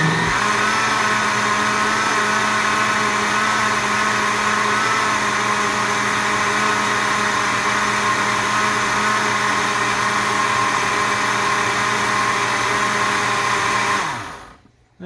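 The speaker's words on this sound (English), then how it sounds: "Just want to blend it up till it's good and frothy." Blender running steadily to froth a homemade cookies and cream ice cream base, a loud constant motor whir lasting the whole time before winding down abruptly at the end.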